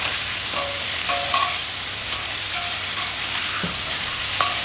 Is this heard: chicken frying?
yes